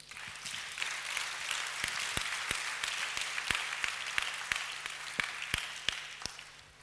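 A church congregation applauds in a steady, full wash of clapping, with sharper individual claps popping out now and then across the whole stretch.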